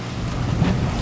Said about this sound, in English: That wind's blowing over, really close to 25 now.